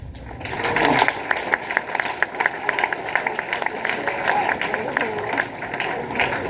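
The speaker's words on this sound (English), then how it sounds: "I'd like to give a round of applause to our 5 candidates" An audience at a high school all-candidates debate applauds for several seconds, a crowd of hands clapping at moderate loudness with voices murmuring beneath.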